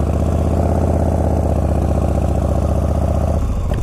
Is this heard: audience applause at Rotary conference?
no